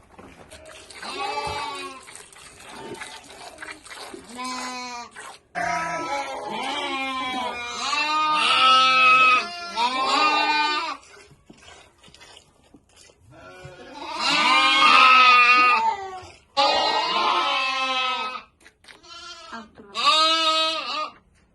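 A calf bleats repeatedly and loudly while suckling, its calls coming in several bursts with short pauses between them.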